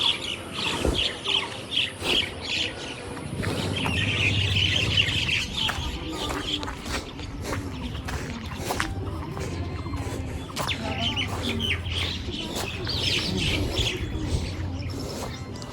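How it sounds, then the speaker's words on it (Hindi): Birds chirp and tweet steadily in the open air at Kangra Fort in Himachal Pradesh, several calls overlapping with occasional louder squawks, no voices. "आप पक्षियों की चहचहाहट की आवाज़ सुनिएगा।"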